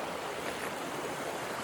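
Naturally carbonated mineral spring water rushes and gurgles steadily nearby, a continuous bubbling flow with no other sounds.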